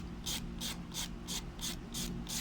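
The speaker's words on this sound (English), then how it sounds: "So you're going to push your file down, but at an angle. Alright, and you're going to start filing" Nail file rasping at an angle across an artificial nail tip, shaping the edge: eight even, rhythmic scraping strokes, close and clear, alone without talk.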